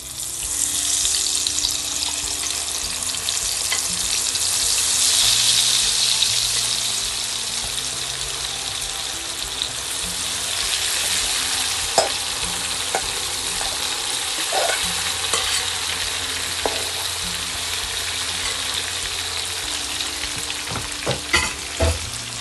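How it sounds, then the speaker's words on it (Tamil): Oil sizzles steadily as elephant foot yam pieces fry, a continuous hiss with occasional sharp crackles and pops near the end, no talking. "இப்போ இதை நான் இந்த எண்ணெய் கொதிச்சுட்டு நான் இதுக்குள்ளே பொரிக்க போகிறேன்."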